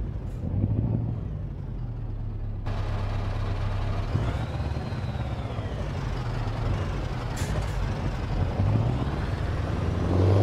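Scania S truck cab interior in Euro Truck Simulator 2, a continuous low engine drone with shifting pitch as revs rise and fall, a brief hiss partway through, and no talking.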